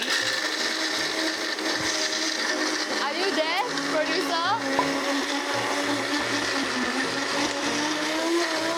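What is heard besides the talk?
blender blending toasted hazelnuts, white chocolate and salt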